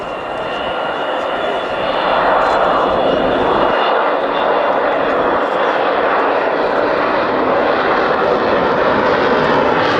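An Avro Vulcan bomber passes overhead with its wheels down, a loud, steady broadband engine roar that swells after the first two seconds and holds throughout while someone talks over it.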